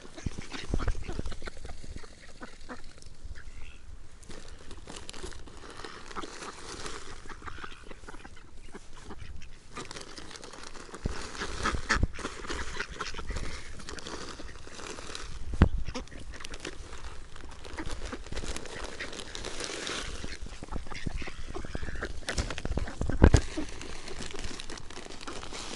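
A group of hungry ducks feeding on scattered seed near a pond, a steady close crackle of pecking and dabbling with occasional soft quacks and a few sharper knocks.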